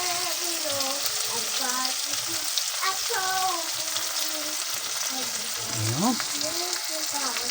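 Tomato and onion sizzle and crackle steadily in a hot pan for an Ilocano dish, a continuous close frying hiss with a brief voice speaking near the end.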